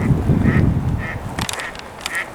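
Ducks at a drying pond give repeated nasal quacks and honks at a steady pace, fairly close, over a low rumbling outdoor background.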